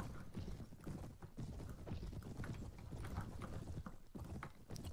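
Horses' hooves clip-clopping during a video game knight battle, a dense, continuous patter of fairly quiet hoofbeats with some clatter, no talk over it.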